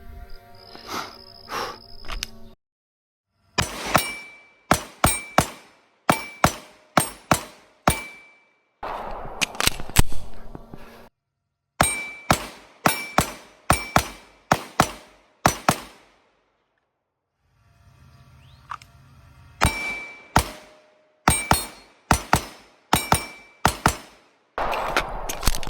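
Pistol shots from a Staccato C2 ring off steel targets during transition drills, sharp cracks in rapid bursts of several shots each, with metallic pings after impacts and brief pauses between strings.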